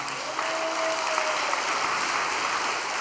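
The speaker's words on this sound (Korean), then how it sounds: "여러분의 따뜻한 격려의 박수 좀 부탁드리겠습니다" An audience at an all-night prayer gathering claps warmly in encouragement, a full, continuous patter of many hands sustained evenly from start to finish.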